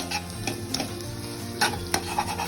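Ginger-garlic paste stirred into sizzling chicken in a pan, with a steady frying hiss and scraping spoon strokes in the foreground, several sharper clinks of utensil against the pot.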